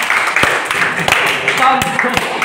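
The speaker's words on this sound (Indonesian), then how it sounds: "Tepuk tangan dulu untuk Bapak" Hands clap at an Indonesian training dissemination session held at a pesantren, with a few sharp claps standing out over a busy, loud wash of applause and murmuring voices that runs throughout.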